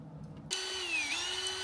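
A power drill with an auger bit starts abruptly and runs at a steady high-pitched whine, close and loud, with a brief dip in pitch under load before recovering; no voices.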